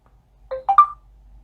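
Short ringtone preview from an LG Optimus 3D Max smartphone: three quick rising electronic tones, moderately loud and alone, with quiet background afterward.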